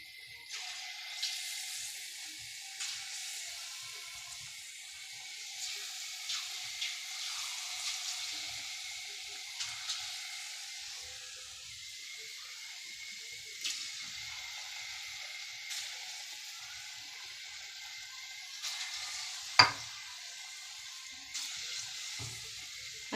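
Ripe jackfruit and flour fritters fry in hot oil, giving a steady high crackling sizzle with soft pops and one sharp clink near the end, heard alone without talk.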